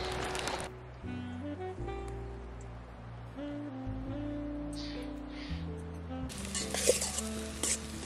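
Cherry tomatoes and garlic sizzling in Italian olive oil at a campsite in Sequoia and Kings Canyon, a soft steady crackle under a low humming tone, with a few clinks of a utensil near the end.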